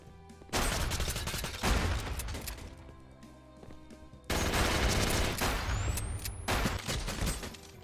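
Shotgun gunfire in a 3v3 tournament video game match, loud dense bursts of shots and impacts in two sustained volleys separated by a short lull, with a brief rising whine near the end.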